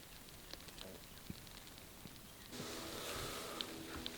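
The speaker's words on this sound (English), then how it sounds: "it's just gonna continue raining and rain all night" Rain patters steadily through the woods on a late afternoon in Alabama public land, faint and scattered at first, then thickening into a denser, louder wash with occasional heavier drops.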